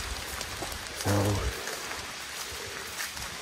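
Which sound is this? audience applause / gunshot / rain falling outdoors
rain falling outdoors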